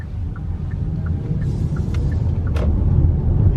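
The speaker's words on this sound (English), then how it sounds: "Just waiting for a gap in the traffic." Road traffic rolls past on a UK street in the early evening, a continuous low rumble of passing cars that swells slightly toward the end, with no voices.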